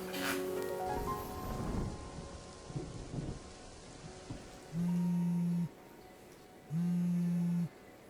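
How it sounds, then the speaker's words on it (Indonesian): Steady rain falls outside a shop, a dense hiss with a few low rumbles early on, joined later by two long droning tones; no one speaks. "Ini gue sama Gita kejebak di toko hujan soalnya."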